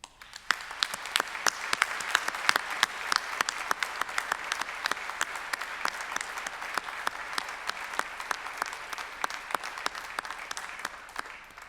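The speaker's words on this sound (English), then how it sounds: "I ask the members of the audience to applaud your accomplishments" Audience applause at a Monash University graduation ceremony for Business and Economics graduates: a large hall full of sustained clapping with many distinct sharp claps, steady and continuous throughout, heard from a distance.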